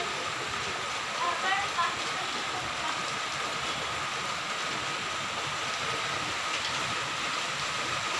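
Heavy rain during a storm, a broad constant wash of falling water at moderate level, steady throughout with a brief faint tonal sound near the start.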